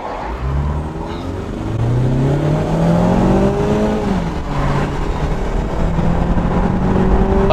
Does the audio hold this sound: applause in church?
no